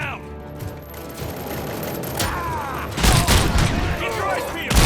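Rapid, dense gunfire rattles through a shootout in the video game RoboCop: Rogue City, with bursts growing louder and heavier toward the end, under shouted voices.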